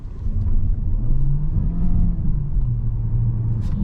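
A 2022 Peugeot 508 PSE plug-in hybrid rated at 360 hp accelerates on a night drive. Loud, close in-cabin engine rumble rises in pitch, eases off and climbs again, with no talk.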